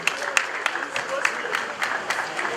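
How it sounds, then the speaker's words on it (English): A crowd applauds the Asantehene, the Ashanti King, at the official opening of Newmont Ahafo: steady, dense clapping close by, with a voice running underneath. "Please, a round of applause in celebration of our King."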